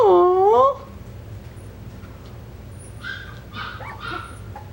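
Four-week-old Coton puppies, one giving a loud whimpering yelp at the start, followed by fainter yips and small whines amid quiet room noise.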